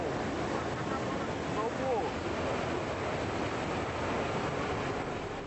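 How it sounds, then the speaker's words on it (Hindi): Water discharged from a full lake at a dam roars in a continuous, dense rush, a steady broadband wash that stays even throughout. "जब किसी लेक में काफी ज्यादा पानी भर जाता है, तब उस लेक के ऑफिशियल्स इंचार्ज कई बार पानी को डिस्चार्ज करते हैं"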